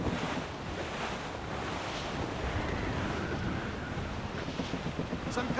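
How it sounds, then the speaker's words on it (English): At sea in Assassin's Creed Rogue, wind roars steadily with rolling ocean surf throughout, loud and continuous, with no talking. "The wind is picking up!"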